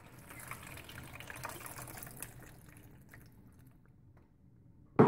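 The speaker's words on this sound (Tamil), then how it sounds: "இப்போ புளி தண்ணி ஆட் பண்ணிக்கோங்க" Tamarind water poured into a pan of frying brinjal (eggplant) masala curry, a steady liquid gush and sizzle for a few seconds that fades toward quiet before a sharp loud clatter at the end.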